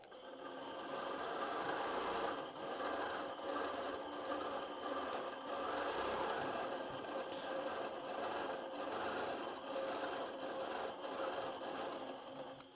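Quilting sewing machine running steadily with the needle rapidly stitching thread through layered fabric, a continuous close whir with brief dips where the stitching slows, no talking.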